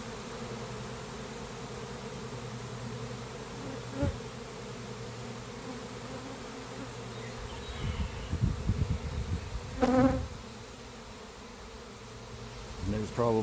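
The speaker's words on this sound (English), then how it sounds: "It's very loud in these bees." A swarm of honeybees poured out of a hive box in a peach tree, a loud continuous buzzing drone close by, with a few brief bumps and rustling handling noises breaking through near the middle and end.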